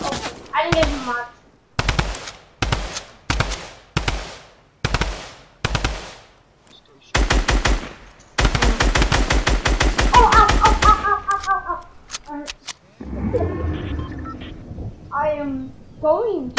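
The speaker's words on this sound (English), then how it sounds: "He shot me like 10 times." Fortnite gunfire: a string of loud, evenly spaced single shots followed by a rapid automatic burst, close and punchy, with a player talking over the later part.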